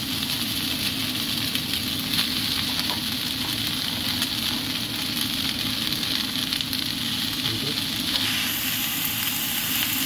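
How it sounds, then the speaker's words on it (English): Rice noodles stir-frying with mixed ingredients give a steady, loud sizzle and crackle that runs unbroken and close, with no talking over it. "now we're going to put the rice noodles in all the ingredients mixed up"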